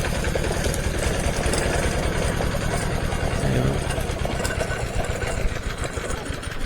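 An engine-driven sugarcane crushing machine runs at a rural village press, a continuous loud chugging and rattling mechanical drone with rapid regular engine pulses throughout.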